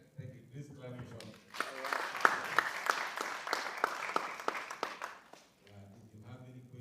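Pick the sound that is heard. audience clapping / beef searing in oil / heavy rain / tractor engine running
audience clapping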